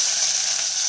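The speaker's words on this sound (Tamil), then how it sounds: "சின்ன வெங்காயம் சேர்த்துடலாம்." Small shallots hit hot peanut oil already tempered with whole spices for chicken kuzhambu, giving a loud, steady, close-up hiss that stays even throughout the short moment.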